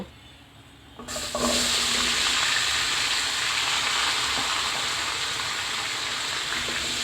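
Mashed potatoes sizzle steadily in leftover oil over medium heat after an abrupt start, a loud continuous hiss with faint scraping as they are gently stirred, no voices.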